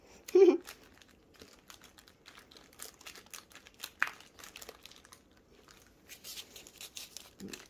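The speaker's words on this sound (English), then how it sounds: "Let me get some more tape." Adhesive tape pulled off a roll and pressed down during resin crafting, with crinkling, tearing and tapping sounds, close and intermittent, with a brief vocal sound near the start.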